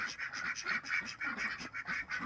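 A backyard flock of ducks kept alongside chickens quacks in a quick run of repeated, evenly spaced calls, close by and fairly loud, with no talking.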